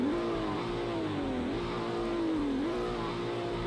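An old JDM car engine revving in the Roblox game Greenville: a continuous engine drone that climbs and dips through several rev swells, loud and close, with no talking.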